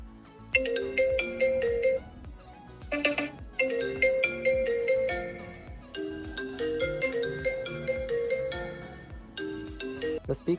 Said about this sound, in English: Test whether the speaker is normal after turning on the phone.